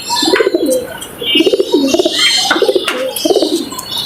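A well-bred pigeon kept at home coos in repeated throaty bursts, about four rounds close by, with faint chirps and background noise between them.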